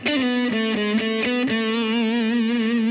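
A distorted electric guitar picks a quick run of repeated notes, then settles into a long sustained note with wide vibrato.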